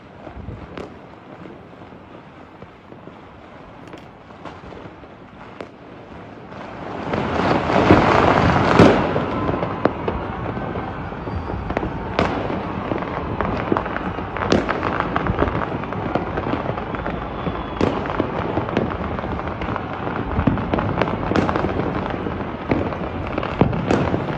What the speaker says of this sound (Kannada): ಎಲ್ಲ ಕಡೆ ಬೆಂಗಳೂರಿನ ಪ್ರತಿ ಏರಿಯಾದಲ್ಲೂ ಕೂಡ ಬೆಳಕಿನ ಚಿತ್ತಾರ, ಪಟಾಕಿ ಸದ್ದು